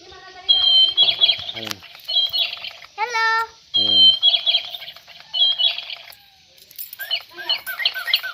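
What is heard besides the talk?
bird chirping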